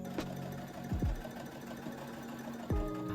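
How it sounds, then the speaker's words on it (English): A sewing machine stitches the side seam of a shirred milkmaid summer dress, its motor running in a steady mechanical hum with a few short louder bursts of stitching, close and alone without talk. "now we can close the side seam"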